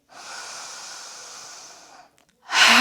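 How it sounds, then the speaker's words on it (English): A long, deep breath drawn in through the nose during a yoga cleansing-breath exercise, steady and close for about two seconds, then a brief pause and a sharp, loud exhale. "take a nice big deep breath in, feel that belly rising"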